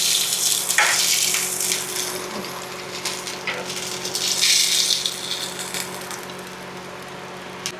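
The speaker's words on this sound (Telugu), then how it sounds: "ఇప్పుడు ఈ చాప్స్ అయితే మంచిగా ఫ్రై అయిపోయాయి." Lamb chops frying in a pan, a continuous close sizzle with crackling bursts and a few rattling knocks as the pieces are moved, swelling and easing over several seconds without speech.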